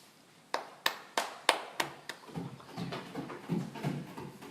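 Audience at a Business Day event in Côte d'Ivoire clapping: about half a dozen sharp, separate claps, then looser, softer scattered applause.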